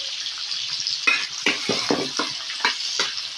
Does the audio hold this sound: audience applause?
no